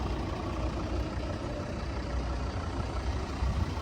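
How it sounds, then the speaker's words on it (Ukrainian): The diesel engine of a 2012 Volvo V50 D3 idles steadily up close, a low, even rumble with a constant rattle and no other sounds. "Він зараз заведений, мотор працює чітко, без посторонніх звуків"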